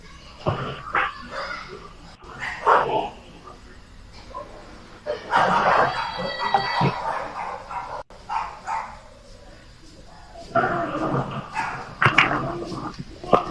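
Several dogs bark, yip and whimper in irregular bursts, loud and close, with brief quieter gaps between outbursts and a voice heard faintly among them.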